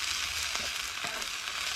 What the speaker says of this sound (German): So, jetzt brutzeln wir das kurz ein.